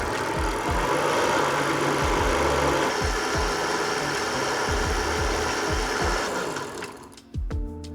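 Electric mid-drive motor on a converted Temu water bike runs under test, a steady loud whirring drone with a rhythmic mechanical rattle, then winding down briefly before pulsing again.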